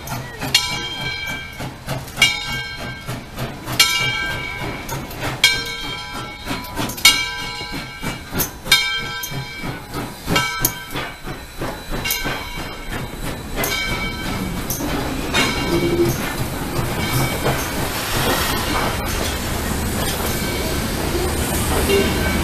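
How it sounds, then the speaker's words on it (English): A train pulls into the station at the Tennessee Valley Railroad, with loud rhythmic clickety-clack of wheels over rail joints easing into a steady rumble and faint squeal as it slows. "as the train pulls into the station"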